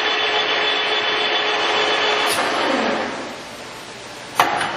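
A Standard Modern gap lathe spindle turns at 490 RPM with a steady mechanical whine and hum, close and continuous, its tone easing slightly near the end before a single sharp knock.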